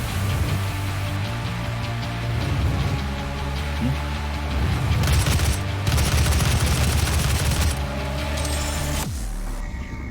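Micro missiles fired from a gun in the video game DOOM 2016: a loud, unbroken rattle of rapid-fire shots and small blasts over a booming low backdrop, with brief pauses and swells before the volley cuts off near the end.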